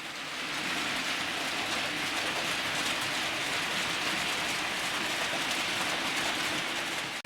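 Hornby Class 67 and Class 58 model locomotives pull EWS freight wagons and ballast hoppers along the track, a steady, even rolling rumble and hiss of wheels that stays constant and close throughout, with no voices.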